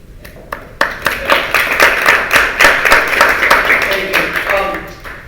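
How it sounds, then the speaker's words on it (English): An audience claps at the 2023 Rocky Hill mayoral candidate forum, a short burst of scattered hand claps that swells into steady applause and then thins out, with no voices over it. "If we could just hold applause to a minimum"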